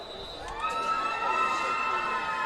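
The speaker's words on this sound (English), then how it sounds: "Crowd hooting it up here near side on the Flanagan side" A high school playoff football crowd on the Flanagan Falcons side hoots and cheers from the stands, a sustained wash of shouting and whooping voices heard at some distance, rising slightly and holding steady.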